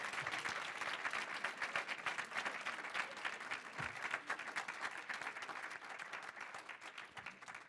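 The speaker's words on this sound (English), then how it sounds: "Give a round of applause to the panelists." At a conference session on career choices, the audience gives the panelists a long, steady round of applause, many hands clapping together at a fairly distant, uniform level.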